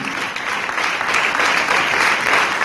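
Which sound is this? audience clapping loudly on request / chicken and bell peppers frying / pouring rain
audience clapping loudly on request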